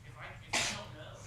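A single sharp sneeze bursts out close by in a quiet room, short and loud over faint background noise.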